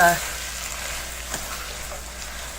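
Potatoes fry in a large pot, a close, steady sizzle with a soft scrape of stirring partway through, the sound heard alone.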